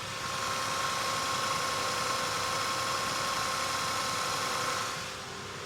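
A 2002 Toyota Tacoma engine idles smoothly, recorded up close beside the left and right cylinder banks, giving a steady, even hum that fades slightly at the end.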